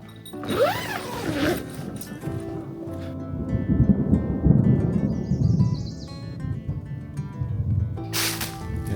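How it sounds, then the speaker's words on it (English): A nearby storm sounds as low, broad rumbling thunder building through the middle of the clip, with rustling and a brief zipper-like scrape at the start and end near a shed at a bridge-building camp. "I think there's a storm coming."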